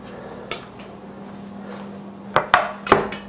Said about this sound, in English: I'm going to show you how easy it is just to scoop these out of the pan